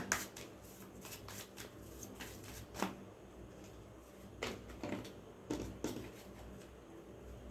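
Tarot cards being shuffled, soft quick riffling and sliding card bursts in irregular clusters, quiet and close with no talking.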